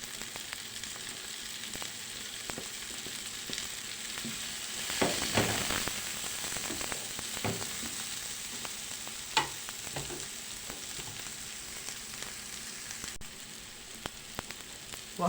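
Peppers fry in a pan with garlic, a quiet continuous sizzle and crackle broken by occasional stirring scrapes and sharper pops, heard close and alone.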